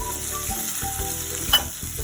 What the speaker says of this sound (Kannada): ಕರ್ಬೇವಿನ ಸೊಪ್ಪು ಹಾಕ್ತಾಯಿದ್ದೀನಿ.